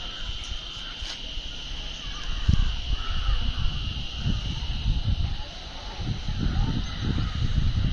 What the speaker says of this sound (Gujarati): જો અહીંયા બધા કાગડા બહુ બોલે છે